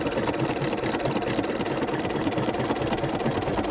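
A Bernina 5 or 7 Series sewing machine with an open toe embroidery foot stitches a long stitch in multicoloured thread. It runs as a steady, loud, continuous mechanical whir with no pauses.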